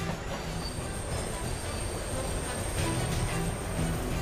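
Trains moving through a large New York City rail repair shop, a dense continuous rumble of wheels on track with high squealing tones above, heard close with no talking.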